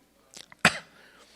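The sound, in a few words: voice imitating a cough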